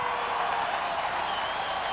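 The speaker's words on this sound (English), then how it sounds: "And the crowd starts to rev up." A stadium crowd at a CFL playoff football game between the Calgary Stampeders and Saskatchewan Roughriders roars and applauds, a dense, sustained wash of distant cheering.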